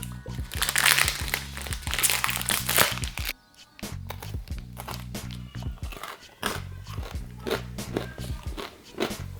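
Someone bites and chews a crunchy chocolate protein bar with crispy flakes inside, giving loud, close, repeated crunches and crackles in uneven bursts with a brief lull partway through.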